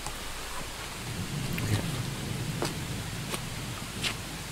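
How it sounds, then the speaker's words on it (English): Steady rain falls with rumbling thunder in the Swedish-woods horror game Unforgiving - A Northern Hymn. A continuous wash of rain carries a low roll of thunder near the start and several sharp drips, and no one speaks. "Oh, it's a rain day."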